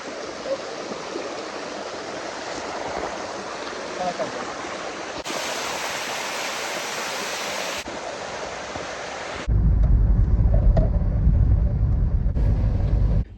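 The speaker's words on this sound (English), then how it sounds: "we're climbing up the waterfall again" Rushing waterfall in Thailand climbed on foot, a steady broadband roar of falling water that shifts in tone as the position changes, growing louder and deeper near the end.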